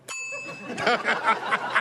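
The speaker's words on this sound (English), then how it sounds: "Hit the bell." A bell is struck once on a talk show set, giving a bright ringing tone that sustains briefly, then fades as voices and soft laughter take over.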